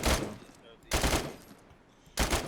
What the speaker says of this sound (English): Dean thinks that there's a sniper shooting at us